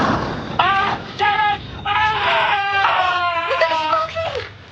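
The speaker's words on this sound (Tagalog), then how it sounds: "Nanlulumong napatigil na lang kami habang pinapakinggan ang papalayong sigaw ni Maki." A person being carried off screams in repeated strained, wavering cries that rise and break, with short gaps between them, loud and close rather than distant.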